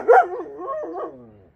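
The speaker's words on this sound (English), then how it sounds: "And there's way too many dogs." A dog gives a short whining, yelping bark inside a crowded vet clinic waiting area with several dogs present, a single close vocalization that trails off into a whimper.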